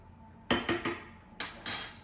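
Dry ingredients, baking soda and salt, being stirred into flour for chocolate chip cookie dough: a few sharp clinks of a utensil against a bowl in two short bursts, close and clear with no talking.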